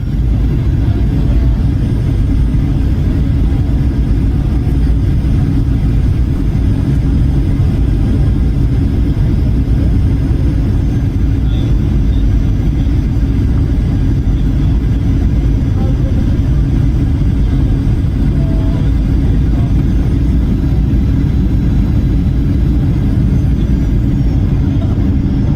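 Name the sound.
Ryanair Boeing 737 landing at Dublin with rough touchdown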